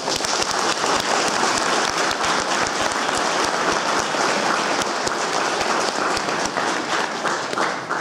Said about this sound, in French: Je pense qu'on devrait applaudir ensemble les pompiers volontaires.